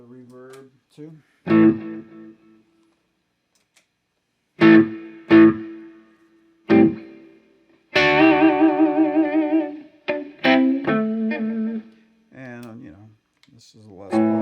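Les Paul electric guitar played through a Boss Katana Artist MKII amp with reverb, loud chords and picked phrases separated by short gaps, each ringing out with a lingering tail.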